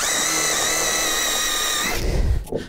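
A power drill bores pilot holes into wood during construction of a house frame, a loud steady whine lasting about two seconds, then cutting off into a brief rumble and clunk.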